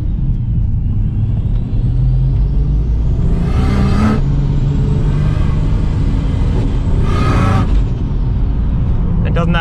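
A turbocharged Barra engine in a Ford FG Falcon drones loudly from inside the cabin on a test drive, swelling twice as it accelerates and then easing back, with rumble and road noise throughout.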